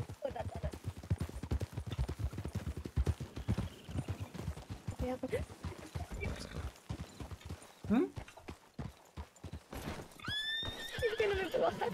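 Horse hooves clip-clopping in the western roleplay game RedM, a strange horse trotting near, with a sharp whinny near the end; people talk over much of it.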